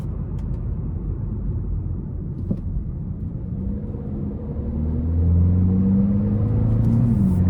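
A 1.6-litre four-cylinder Hyundai Elantra N Line with a dual-clutch gearbox drives along, its steady engine drone and road rumble swelling louder partway through as it pulls harder, with no one talking.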